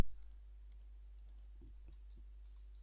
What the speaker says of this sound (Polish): Klikam sobie tutaj.